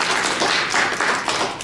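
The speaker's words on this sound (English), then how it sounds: "give her a round of applause" A brief burst of applause from a small meeting audience, close, dense clapping that holds steady, with no talking over it.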